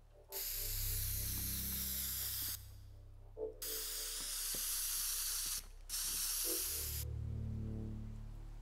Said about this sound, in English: Why do I bother spraying everything now?